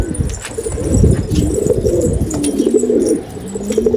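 Pigeons cooing inside a freshly painted coop, overlapping low rolling coos with a brief wing flutter, close and continuous.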